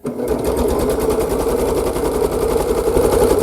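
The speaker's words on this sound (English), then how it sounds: "I'll take first two pieces of the first row, stitch them at 1/4 inch" A sewing machine runs steadily, stitching two quilt pieces together at a quarter-inch seam for a scrappy uneven nine-patch; a continuous close, even mechanical whir with a rapid needle rhythm throughout, no talking.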